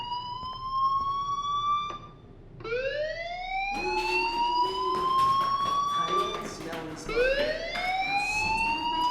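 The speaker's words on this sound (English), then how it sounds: "do you hear that fire alarm? That means you should be outside." A fire alarm in Life is Strange wails in repeated rising sweeps, loud and close, overlapping one another across several seconds with some background commotion.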